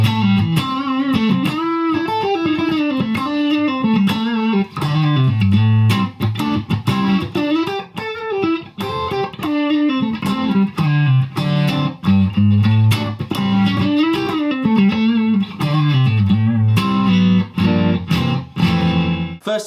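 A PRS Silver Sky electric guitar is picked through melodic runs and phrases, captured on a camera-mounted shotgun mic, sounding clear and fairly close, played alone without talk.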